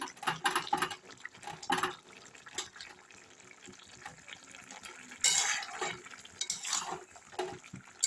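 Mixed vegetable curry with chopped coriander stirred in a pot: wet, irregular scraping and sloshing bursts come in clusters, loud at the start and again near the end, with quieter stretches between.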